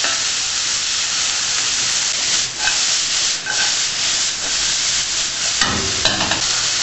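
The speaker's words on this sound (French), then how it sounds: "Faites revenir le tout." Beef and ginger stir-fried in a pan, with a steady, close hiss and sizzle throughout and a few scraping stirs and clatters of a utensil near the end.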